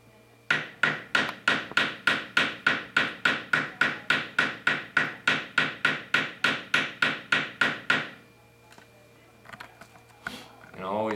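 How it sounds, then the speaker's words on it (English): About two dozen sharp, evenly spaced hammer strikes on jewelry wire ring out close by in a steady rhythm, then stop, leaving faint rustling and handling noise. "work out the details with your hammer"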